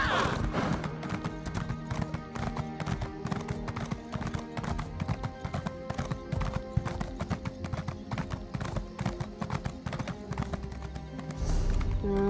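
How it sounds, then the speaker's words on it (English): Hooves clip-clop in a steady rapid rhythm throughout, as a horse trots in The Elder Scrolls Online, with occasional game sounds mixed in. "Someone's horse."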